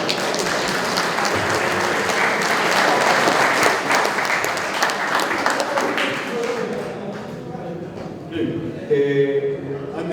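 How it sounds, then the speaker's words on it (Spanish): An audience applauds loudly and steadily at a graduation ceremony for a motorcycle mechanics class, the clapping swelling and then fading, with a speaker talking over its last few seconds. "Recibimos con fuertes aplausos."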